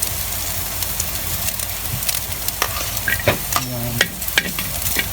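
Garlic and onion sizzle and crackle in hot oil in a home kitchen wok, a steady close frying hiss with stirring clatter and a brief spoken word over it.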